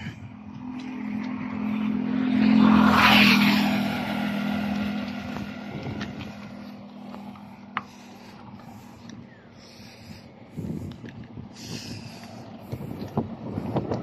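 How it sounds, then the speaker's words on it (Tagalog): Strong wind buffets the microphone while riding a bicycle outdoors, making a broad rumbling roar that swells and fades, with scattered small knocks and clicks. "ang lakas ng hangin"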